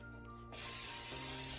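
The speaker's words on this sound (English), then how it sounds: "In this loaf pan, I am going to spray it with non-stick spray, first of all." Non-stick cooking spray bursts into a loaf pan as one steady, close hiss that starts abruptly about half a second in and continues to the end.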